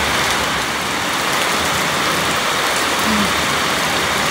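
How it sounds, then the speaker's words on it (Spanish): Heavy rain pours down steadily outside a house, a dense, loud, continuous wash of drops with no pauses and no talking. "Está lloviendo bastante."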